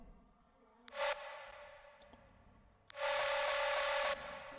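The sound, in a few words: Discord notification sound sample without reverb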